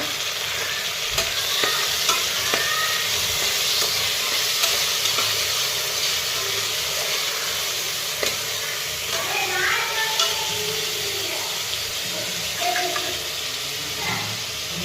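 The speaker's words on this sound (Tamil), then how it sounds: "நல்லா வதங்கினது தக்காளி போட்டுக்கோங்க." Tomatoes frying with mint and coriander for chicken biryani, a steady close sizzle broken by repeated scrapes and stirs of a spoon in the pan.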